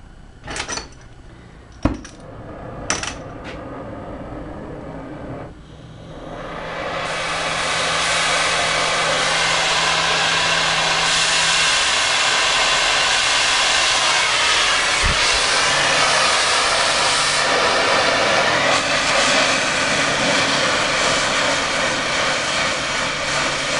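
Gas torch lit and roaring as it heats a section of metal bar clamped near a vise for twisting; a few clanks first, then a steady close hiss of flame that holds to the end.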